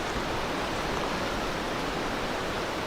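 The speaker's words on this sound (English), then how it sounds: "still pretty windy." Wind blowing hard through trees at a campsite on a chilly evening, a steady broadband rush close to the microphone with no other sounds.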